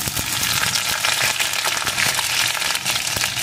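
Chopped onion fries in hot oil in a pan, sending up a dense, close crackling sizzle that runs continuously with many small pops and no talking.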